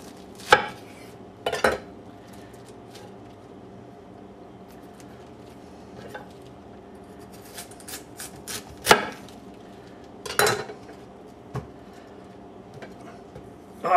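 A knife chopping a head of cabbage on a board in a home kitchen, a few sharp, separate cuts with pauses between them against a quiet background.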